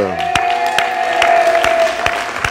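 A church congregation claps and cheers, with sharp scattered hand claps over a sustained tonal voice or music line filling the room.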